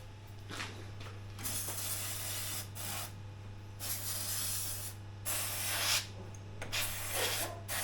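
Several bursts of aerosol spray can hissing onto a Ford Cortina mk5 car engine, each a few seconds long and close by, separated by short pauses over a steady low hum.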